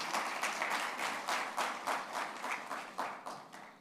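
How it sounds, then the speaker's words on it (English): A seated audience gives a dense, steady round of clapping for Central Council members at a chartered accountants' Union Budget 2023-24 impact analysis gathering, with no voices over it. "A big round of applause for all the Central Council members."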